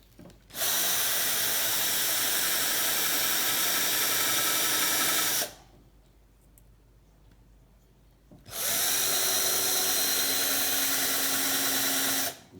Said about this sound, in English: Definitely feel like my drill bit is becoming a bit unhappy.